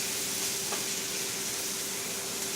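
Food sizzling steadily in a skillet turned up to high heat on an old stove, a continuous close hiss with a faint steady tone running underneath, no voices.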